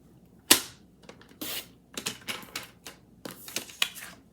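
Card paper is trimmed for a handmade Easter card, with sharp close clicks, a quick swishing slice and a few lighter taps in an irregular rhythm.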